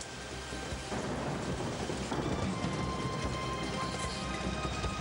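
Steady rain pours down while thunder rolls in a low, continuous rumble underneath.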